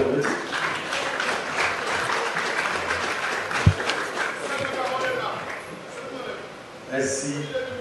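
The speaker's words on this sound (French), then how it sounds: "Merci, un peu plus fort, on applaudit." A crowd applauds after a speech at a Haitian public event, a broad continuous wash of clapping that holds steady, with a brief sharp knock midway and a swell near the end.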